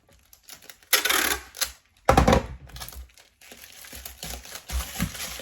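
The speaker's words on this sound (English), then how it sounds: "Wrap that down like so. This I will use eBay tape." Packing tape, eBay-branded, pulled off the roll in two loud screeching bursts and pressed around a parcel of breakables, followed by softer crinkling and rubbing as it is smoothed down.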